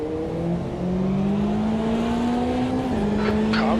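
Race car in the Automobilista 2 sim racing game: a steady, loud engine drone holds and rises in pitch, and a second car's tone joins briefly alongside near the end.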